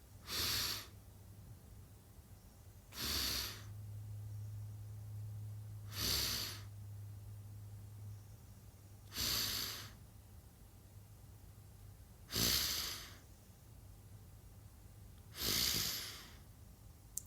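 Six slow, deep breaths drawn in during a breathing exercise, each a soft airy rush lasting under a second, spaced about three seconds apart over a quiet, low hum.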